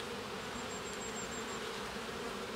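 Honeybees swarm over a hive frame, filling the air with a continuous, even buzzing hum that stays close and steady throughout, with no voices.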